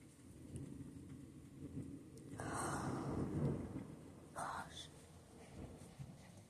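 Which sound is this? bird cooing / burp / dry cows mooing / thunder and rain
thunder and rain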